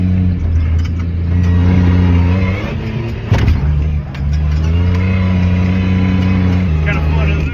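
A truck engine revs and drones over the sand dunes at Silver Lake, steady mid-pitched motor hum with a surge of acceleration, while people talk over the noise inside the cab.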